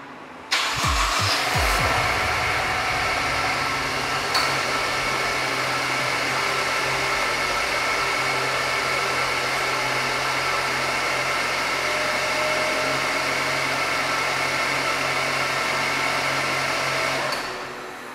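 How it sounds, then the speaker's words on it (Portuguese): A Range Rover Evoque Si4 turbo petrol engine cranks and catches after an oil change at its 100,000 km service. It then settles into a steady, loud idle that runs nearby for about seventeen seconds. "Agora a gente vai dar partida para conferir o nível."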